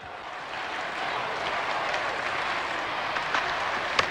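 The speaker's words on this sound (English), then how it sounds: "The crowd's gone wild at mid-wicket" A cricket crowd roaring and cheering after a big hit during a 1984-85 World Series Cup match, a broad, steady wash of distant noise with a few sharper claps and shouts, no talk.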